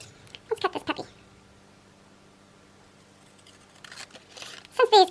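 Scissors cut through a printed paper card for a mini album page, giving short crisp snipping and rustling bursts near the start and again at the end, with quiet handling in between.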